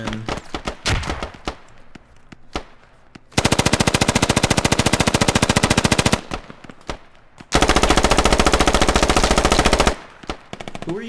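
Gunfire in the video game Squad: scattered single shots and bursts, then two long sustained machine-gun volleys of loud, rapid evenly spaced rounds, with brief pauses between.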